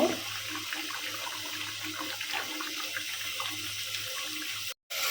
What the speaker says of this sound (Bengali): এখন এই যে বলক চলে এসছে এখন চুলা আজ মিডিয়াম করে দেব